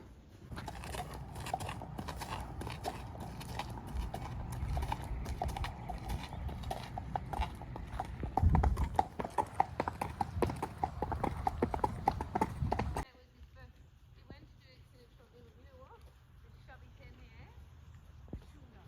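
Hooves of a young colt clip-clopping steadily during a ride, a rhythmic run of close hoofbeats under people talking, fading to quieter scattered sounds near the end.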